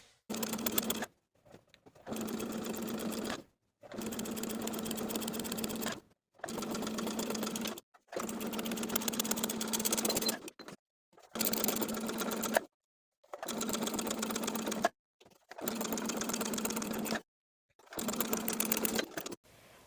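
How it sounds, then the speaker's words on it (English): A sewing machine runs a regular straight stitch, sewing elastic into the waistband of linen shorts. The motor whirs in about eight bursts of a second or two, each followed by a short silent pause. No voices. "Pull the elastic as you sew. Use a regular straight stitch."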